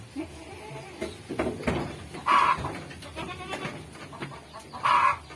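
Two loud goat bleats a few seconds apart, close by, over low rustling and handling noises as a thin, lice-infested goat is treated.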